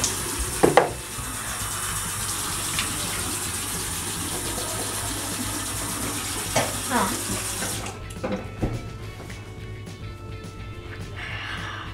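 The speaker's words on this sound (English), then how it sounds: "Washing, washing the Washing, washing, washing the teeth." Tap water runs steadily into a sink during tooth brushing, a continuous hiss that cuts off partway, followed by quieter clinks and brief rustles.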